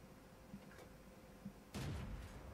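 A single heavy cannon shot from a T40 tank destroyer in World of Tanks, one sudden boom with a rumbling tail, faint and distant-sounding over a quiet background with a couple of small knocks before it.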